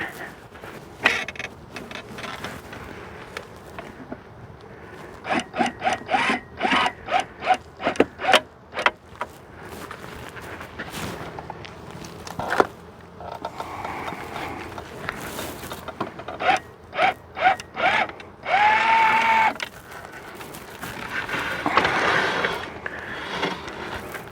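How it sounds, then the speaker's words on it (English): A hive lifter prying apart beehive boxes during summer requeening, giving a run of loud wooden creaks and cracking bursts in quick rhythmic clusters, then scraping and a brief high squeak, close up with no talk. "I am going to use my hive lifter."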